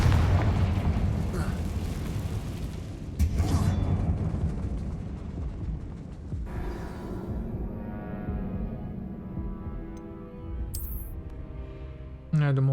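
Confringo spell blasts in Hogwarts Legacy inside an abandoned mine, a deep booming explosion that rumbles and decays, then a second burst, with lighter game effects and a sharp final pop near the end.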